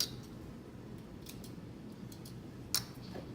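Fabric scissors snip through collar cloth in a few quick, faint, crisp cuts, with one sharper snip near the end against a quiet room.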